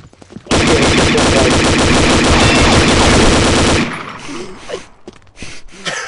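Rapid automatic gunfire in a first-person shooter match on an oil rig map, loud and continuous for about three seconds, then cutting off to quieter game sounds and faint background noise.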